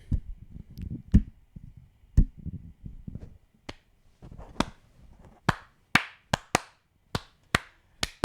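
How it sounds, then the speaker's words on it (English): A few people clapping in a sauna, first as scattered, overlapping claps, then settling into a steady run of sharp, separate claps near the listener. "Clap it out."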